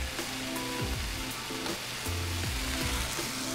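Eggs fry in a pan with a steady, close sizzle that runs throughout, joined by occasional faint scraping and tapping as the cooking continues.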